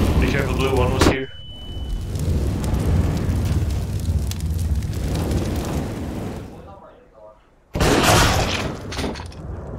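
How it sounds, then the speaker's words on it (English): Flashbang grenade going off in a multiplayer shooter game, a loud burst followed by a long rumbling ringing decay, then another sharp loud blast near the end, with voices talking over the game audio. "Flashbang out."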